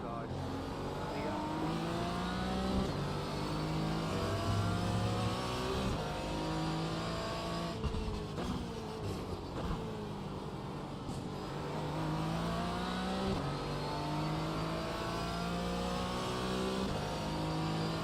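A Porsche GT4 race car at Daytona in a racing video game drones continuously, its engine pitch climbing and falling through repeated gear changes, with voices talking over it at times.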